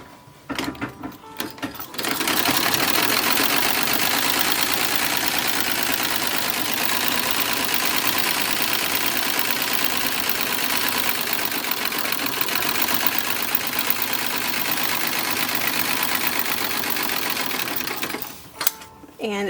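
A sewing machine runs steadily for about sixteen seconds, hemming the sides of 1910s-1920s style toddler underwear fabric, a close, loud, continuous whirring hum that starts and stops with brief handling noises at each end.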